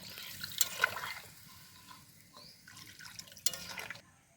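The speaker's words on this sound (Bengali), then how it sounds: "আমি গাবলা ধুয়ে একটু জল দিয়ে দিচ্ছি" Water splashes and trickles faintly into a cooking pot of chicken and potatoes for biryani, with a couple of sharper splashes and drips, close by and quiet, with no talk.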